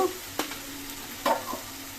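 Tengra fish dropped into a pan of hot fried spices for a fish curry, a soft steady sizzle broken by two sharper bursts as pieces go in, close and alone.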